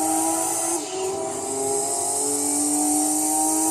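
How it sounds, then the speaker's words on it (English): Nissan R390 race car in Gran Turismo 2, a loud, aggressive engine holding a high, steady whine with a brief dip in pitch before climbing and sustaining again. "It has a pretty aggressive sounding engine."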